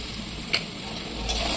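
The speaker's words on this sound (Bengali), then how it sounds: "দেখো এরকম ভালোভাবে লাল লাল করে আলুগুলো ভেজে নেব।" Potatoes fry in a pan with a continuous sizzle, and two brief stirring scrapes against the pan stand out above it.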